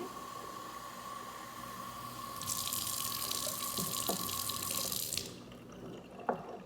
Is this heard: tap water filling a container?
yes